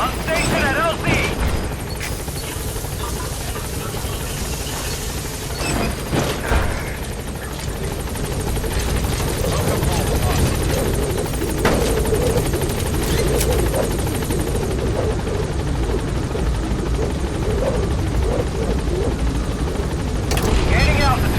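The Pequod helicopter in Metal Gear Solid V roars steadily close by as it lands, a loud continuous rotor thrum and engine drone lasting throughout, with voices speaking over it.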